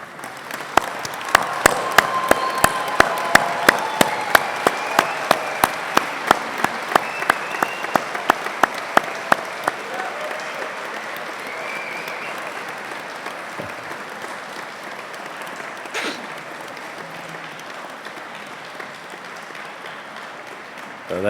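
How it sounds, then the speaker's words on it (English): Graduates and guests applaud at a university graduation ceremony, a loud crowd clapping that begins with rhythmic unison claps, then settles into a looser, fading applause. "join me in a huge round of applause to thank all those that have helped"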